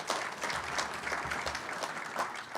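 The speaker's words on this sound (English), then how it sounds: "let's give him a round of applause" Audience applause at a driver development program banquet, a steady wash of clapping from a crowd across the whole stretch, moderately quiet and continuous with no talk over it.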